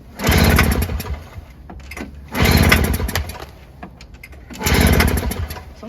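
Toro CCR2000 snowblower with its choke on, pull-started three times: each yank of the recoil cord brings a rasping burst of engine cranking that fails to catch, separated by quieter pauses.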